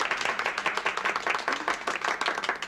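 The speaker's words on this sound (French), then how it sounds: "on applaudit nos aînés, Dora et Arthur." An audience applauds an elderly couple, Dora and Arthur, with brisk, close-sounding clapping that holds steady for a few seconds.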